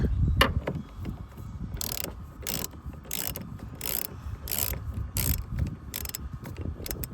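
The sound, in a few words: ratchet loosening a bolt on a 2019 Ram 1500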